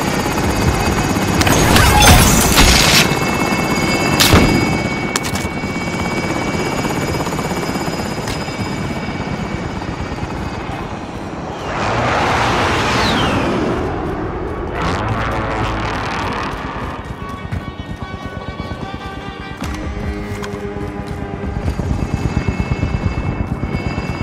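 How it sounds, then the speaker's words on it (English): A helicopter in Payday 2 hovers in position, its loud rotor thrum and turbine whine running throughout, broken by several sharp bangs and crashes and a rushing swell midway. "Helo is in position."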